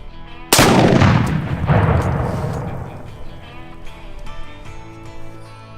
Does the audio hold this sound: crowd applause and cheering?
no